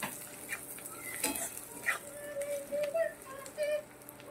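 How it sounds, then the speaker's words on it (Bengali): Turmeric powder is stirred and fried in a pan, a soft low sizzle with scattered scraping and stirring clatters, fairly faint, alongside a few faint tonal background sounds. "এবারে সুন্দরভাবে নেড়ে চেড়ে ভেজে নিচ্ছি।"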